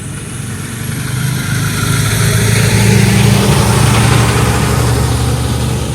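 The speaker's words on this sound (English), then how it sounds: "Who's coming here with a noisy vehicle?" A big delivery truck's engine rumbles past a building site, a loud, deep, continuous drone that swells toward the middle and eases off slightly, heard close with no talking.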